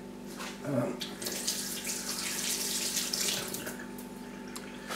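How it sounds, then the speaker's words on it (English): Water runs steadily into a tray set up to hold a wild plant in RO water, a continuous close splashing pour lasting several seconds with a faint low hum underneath. "Now what I want to do is virtually fill that tray with RO water."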